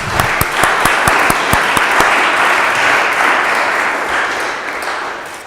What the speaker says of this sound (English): I'd give them all a round of applause.